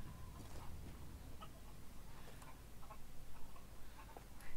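Chickens cluck in a village in the Resident Evil Village game, short scattered clucks over a steady dense background hum and ambient rumble, fairly faint and without talk.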